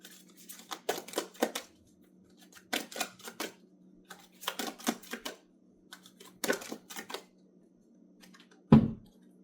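A tarot card deck is shuffled in short bursts of crisp riffling and flicking, separated by quiet pauses, with a sharper snap near the end.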